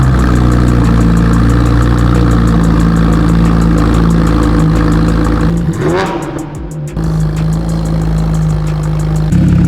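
A Porsche 911 Carrera 4S engine with straight-pipe exhaust and no catalytic converters rumbles steadily, dips briefly with a sharp crackle, then returns to a heavy, raspy idle with strong exhaust tone.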